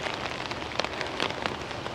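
Steady rain falls on a wet street in Istanbul, a dense close patter of drops hitting the ground with a few sharper splashes, no voices.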